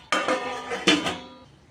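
Two metallic clanks ring out as a metal plate is set down on a pot of chicken biryani, each leaving a short resonant shimmer. No talking.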